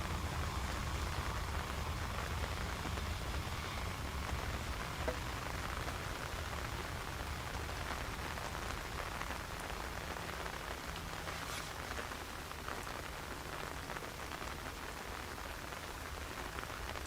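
Steady rain pours down at Dublin Airport on a wet Monday, a dense, even hiss of drops spattering hard surfaces close by throughout, with no voices.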